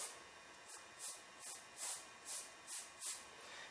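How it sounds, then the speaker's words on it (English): Short bursts of airbrush spray hiss repeat in a steady rhythm, about seven quick puffs with brief pauses between, close and fairly quiet, as paint is sprayed onto diamond plate. "I'm just going to spray the bottom part of this."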